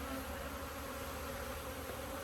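A dense, continuous drone of angry honeybees swarming at a hive, loud and close, with no break or voices.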